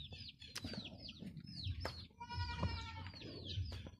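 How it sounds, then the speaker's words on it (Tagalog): Goats bleat on a farm on an overcast morning, with several wavering calls near and farther off. Chirping birds and low rumbling background noise run under them, and no one speaks. "Pati yung mga kambing hindi pa nilabas."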